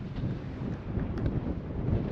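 Gusty wind buffets the microphone with a low, steady rumble outdoors at the end of a wharf on New Zealand's East Cape, no voices present.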